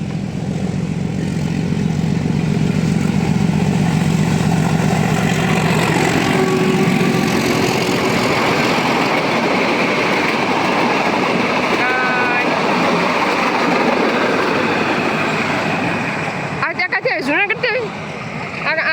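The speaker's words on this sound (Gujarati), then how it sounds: "ચાલો ફાઇનલી ટ્રેન આવે છે જોઈ શકો છો" A train arriving from Junagadh rumbles steadily nearby with a continuous low roar, growing busier as it passes, with brief squeals near the end.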